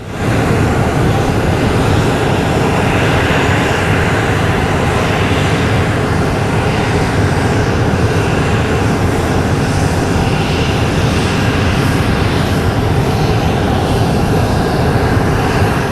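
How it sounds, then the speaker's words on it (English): A US Navy P-8 Poseidon maritime patrol aircraft passes overhead in a flyby at an airshow in Dubai, a loud, steady jet roar that holds constant throughout with no voices. "The US Navy also performed a flyby with this P-8 Poseidon maritime patrol aircraft"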